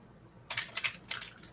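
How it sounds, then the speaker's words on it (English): Key presses on a computer keyboard wired to an RP2040 microcontroller: two quick clusters of crisp, close plastic clicks, three taps and then a few more, over a quiet background. "I wired it up and I'm getting the key presses"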